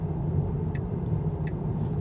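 A Tesla Model 3 Standard Plus turn signal ticks faintly as the car exits a lane on autopilot, with a few soft, evenly spaced clicks over a steady low road and cabin rumble.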